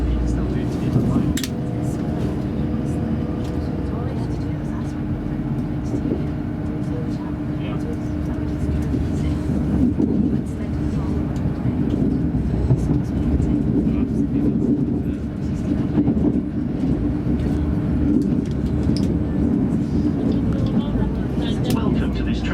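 Interior of a TransPennine Express train bound for Liverpool Lime Street: a continuous low rumble and hum of the moving carriage with faint clatter, under a voice talking.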